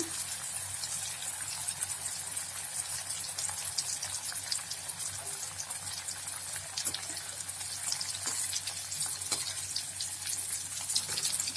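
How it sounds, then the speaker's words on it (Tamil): Pieces of elephant foot yam fry in hot oil with a continuous, dense hiss and crackle. Small pops scatter through it, all at an even, moderate level and fairly close, with no speech. "நல்லா எண்ணெய் காய்ட்டு ஒவ்வொரு பீஸாக எடுத்து போடுங்க. நல்லா ஃப்ரை ஆகட்டும்."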